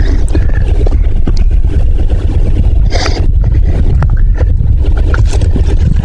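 Kawasaki Mule utility vehicle engine idling steadily in 4-wheel drive out in the woods, a continuous loud low rumble filling the whole stretch with a brief scrape partway through and no talking.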